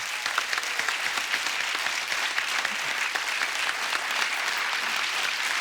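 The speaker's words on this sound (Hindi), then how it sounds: "एक बार जोरदार तालियां हंगामा 2 की सुपर टैलेंटेड कास्ट के लिए" An enthusiastic studio audience at a television comedy talk show applauds the guests, loud and steady clapping with crisp individual hand claps standing out from the dense crowd sound, and no talking.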